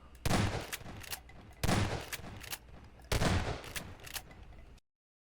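Three loud gunshot blasts from a weapon in Garry's Mod running a visual effects overhaul mod, each sharp crack trailing into a rumbling decay, evenly spaced about a second and a half apart, with silence at the end.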